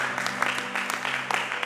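Church congregation clapping during a Christmas service, brisk steady applause from many hands throughout, with a low steady hum underneath.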